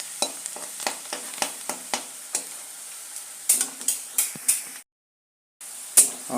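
Onions frying in a pan, stirred with a run of sharp scraping strokes over a steady sizzle; the strokes come fast and regular, pause, then resume after a short silent gap, with no talking.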